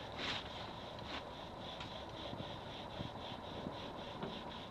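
Wood rubs against wood as a socket is friction-drilled into a wooden fireboard, making faint, steady, rhythmic scraping strokes that repeat evenly throughout.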